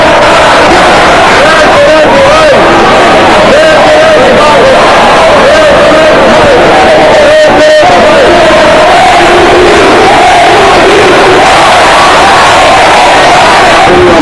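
A large crowd in Romania chants for King Michael in loud, rhythmic massed voices, continuous and dense, with shouting and cheering mixed through the chant.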